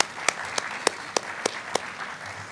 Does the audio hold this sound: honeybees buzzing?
no